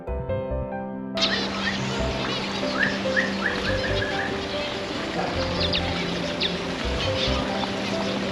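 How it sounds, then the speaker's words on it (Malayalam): Small birds chirping at Al Ossia bird sanctuary in Madinah, scattered quick tweets and calls over a busy murmur of background noise, with a brief tonal sound at the very start. "ഇത്തരത്തിലുള്ള ചെറിയ ചെറിയ പക്ഷികളാണ് നമുക്കിവിടെ ഉള്ളത്"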